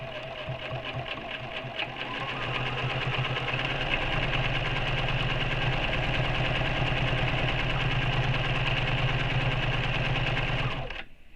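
A BERNINA sewing machine topstitches along a fabric seam with a steady, fast, even mechanical whir. It runs loud and close for about nine seconds, then stops abruptly.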